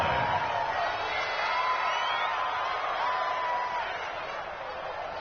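Stadium crowd noise from the Madden 20 American football video game, a steady broad roar with faint whoops drifting through, holding level for about five seconds with no clear speech.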